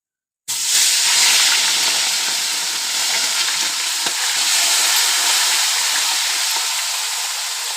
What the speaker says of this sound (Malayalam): അതിന് വേണ്ടിയിട്ട് ഇപ്പോൾ ചിക്കൻ ഇടാം